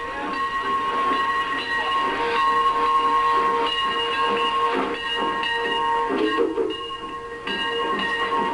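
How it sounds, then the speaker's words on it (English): An old-fashioned steam locomotive hisses loudly and continuously as it runs through woodland, with sustained whistle-like tones layered over the rushing steam, close and strong throughout. "we'll ride on a real old-fashioned steam engine as it chugs its way through the woods"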